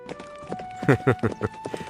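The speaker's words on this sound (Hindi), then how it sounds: "राजकुमार विक्रम अपने घोड़े पर आगे बढ़ रहे हैं, पीछे सैनिक साथ चल रहे हैं।" Cartoon horse hooves clip-clopping as a prince rides ahead with soldiers following, a steady loud rhythmic series of close hoof beats with narration spoken over them.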